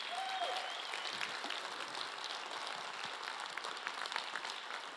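Conference audience applause for the tech team at a design policy gathering, a steady, faint, distant wash of clapping with no talk over it.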